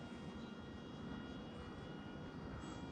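Small Recruit Mini RC airplane engine buzzing steadily as it climbs on throttle, a faint distant drone heard alone with no talking.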